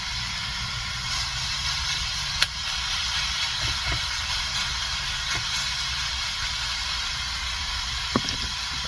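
Meat sears in a crowded pan, giving a steady, close sizzling hiss that runs unbroken throughout, with a few small ticks and pops.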